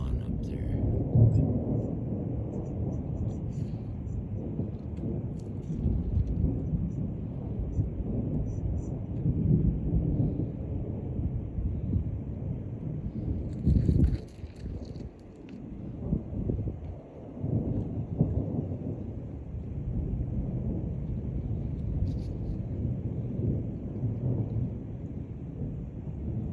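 Low rumbling thunder rolls on and off through a lightning storm at night, a heavy continuous bass roar with swells and brief lulls, some faint voices at moments.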